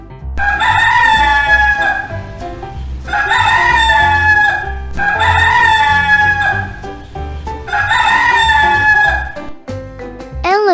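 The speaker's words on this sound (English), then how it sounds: "chicken" A rooster crows loudly and close, four long cock-a-doodle-doo calls in steady succession with brief gaps, followed by a short higher squawk at the end.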